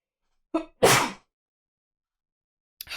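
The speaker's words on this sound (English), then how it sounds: "I need to sneeze" A single close sneeze, a short sharp intake followed by a loud burst, then silence before a faint new sound begins at the very end.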